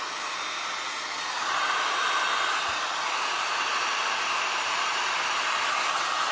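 A hair dryer blows continuously at close range over glass and resin artwork, a steady loud whooshing hum with no other sounds.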